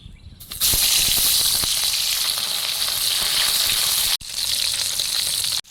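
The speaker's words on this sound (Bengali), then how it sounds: "এবার পরিমাণ মতন তেল দিয়ে দিচ্ছি, মাথাটা ভেজে নেব।" Fish head frying in hot oil with cumin seeds in a village kitchen, a loud steady sizzle that starts abruptly, crackles with small pops throughout and breaks off once briefly before resuming.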